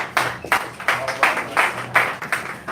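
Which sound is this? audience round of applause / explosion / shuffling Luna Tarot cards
audience round of applause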